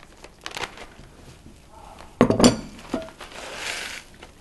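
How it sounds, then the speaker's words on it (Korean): Ingredients for a sweet pumpkin rice-cake snack are tipped all at once into a bowl: a short clattering rush of pieces hitting the dish, with light clinks and handling noises before and after. "와르르 다 쏟았어요."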